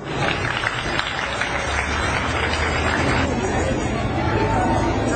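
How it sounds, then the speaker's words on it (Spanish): An audience at a school event applauds, a dense bed of clapping mixed with crowd chatter and murmuring voices throughout. "Recibámosle con un fuerte aplauso."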